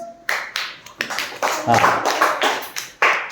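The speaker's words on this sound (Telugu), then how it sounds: "క్లాప్స్." Classroom audience at a primary school clapping for a third-class pupil's recitation, bursts of hand claps rising and fading in uneven waves, with some voices talking over them.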